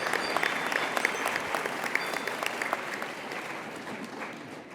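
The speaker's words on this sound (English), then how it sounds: "So a big round of applause for our faculty for the great job they have been doing." Sustained audience applause fills a university engineering senior design day ceremony, steady dense clapping from a sizable crowd with no break.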